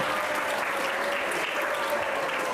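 Students applauding during a Ramadan religious talk at a school, a steady even round of clapping from a group, with a faint tone running beneath.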